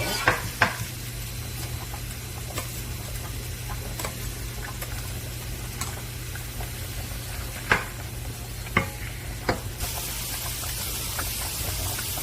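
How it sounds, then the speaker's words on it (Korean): Spaghetti noodles boiling in a pot of salted water for a bacon cream pasta, a steady hissing bubble with a low rumble underneath and a few sharp utensil clicks against the pot. "면도 같이 끓여보도록 할게요"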